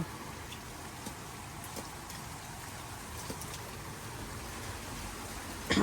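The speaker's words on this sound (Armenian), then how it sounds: "Մի փոքր լսենք անձրևի ձայնը" Steady rain falls as a soft, even hiss with occasional louder drips, continuous and without any voices throughout.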